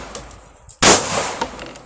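A Smith & Wesson M&P 2.0 pistol shot outdoors at bottles, one sharp loud crack followed by a ringing, echoing tail and a fainter knock afterward.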